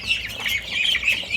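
Young ducks kept together in a pen call repeatedly, with bright overlapping squawks and quacks close by and no talking.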